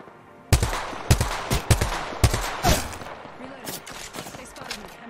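Gunfire in a first-person online shooter, several sharp, loud single shots spaced irregularly close together, then fading into a quieter, busy background with some talk.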